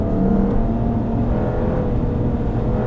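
A Lexus RC 350 F Sport engine holds high revs near 5,000 RPM through a track corner, a continuous, loud in-cabin drone with a steady mechanical whir and no speech.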